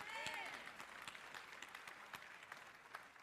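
Applause from a church congregation during a Sunday service, a spread of clapping from many hands at moderate distance, with a voice speaking over it.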